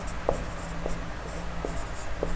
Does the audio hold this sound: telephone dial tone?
no